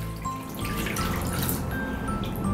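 Dried kelp, softened by steaming, is swished and rubbed by hand in a bowl of warm water at about 40 degrees, giving close, continuous sloshing and dripping with small splashes throughout.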